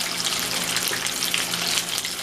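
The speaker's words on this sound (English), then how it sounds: "Just washing my hands, y'all." Water runs steadily from a kitchen tap with a constant hiss and splash as someone rinses their hands beneath it.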